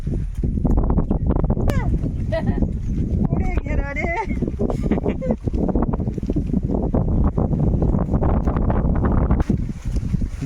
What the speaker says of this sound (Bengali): ঝড় ঝোড়ো হাওয়া হচ্ছে দেখুন